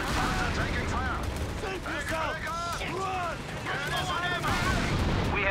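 Gunfire and artillery from the video game Company of Heroes 3 pop and crack in a dense, continuous battle mix, with whistling shells and shouted voice lines layered over the constant combat noise.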